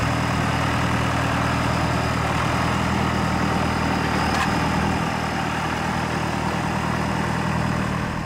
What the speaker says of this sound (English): raise the unit in the air with the hydraulics engaged and engage the pH system